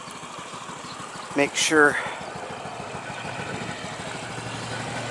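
A Honda Metropolitan CHF50 scooter engine idles steadily and close by, a low continuous putter through the whole stretch, with a brief spoken phrase over it near the start.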